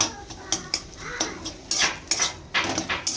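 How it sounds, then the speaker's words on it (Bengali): A spoon scrapes and clanks against a pan while mashed fish and potato are sautéed with turmeric, salt, a little sugar, cumin and coriander powder, producing quick repeated metallic scrapes and bursts of sizzling. "ম্যাশ করা মাছ আর আলু দিয়ে তার সাথে সমস্ত রকম মশলা মানে ওই হলুদ নুন সামান্য চিনি জিরে গুঁড়ো ধনে গুঁড়ো এগুলো সব দিয়ে একটু কষাচ্ছি"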